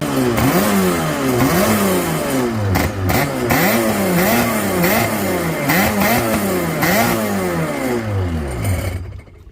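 A Kawasaki X2 750 jet ski engine runs loud and close, rising and falling in repeated throttle surges with a raspy two-stroke tone, cutting off at the end.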